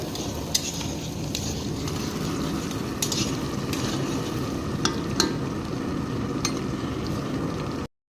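Onions fry in oil in a pot as the first step of a large batch of pulao. A steady sizzle runs for about eight seconds, with occasional metallic clinks from a spoon against the pot, before stopping abruptly.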